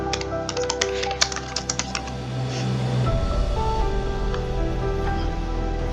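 Computer keyboard typing taps out a quick run of crisp clicks near the mic, then gives way to a steady low hum with faint background tones.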